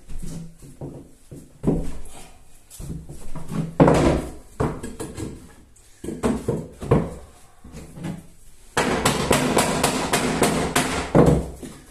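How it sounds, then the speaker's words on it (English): A hammer taps pinewood floorboards into place, in irregular bursts of sharp knocks, close and loud, with short pauses between runs of blows. "So we'll just give this a tap in with a hammer."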